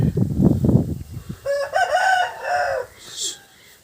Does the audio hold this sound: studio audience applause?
no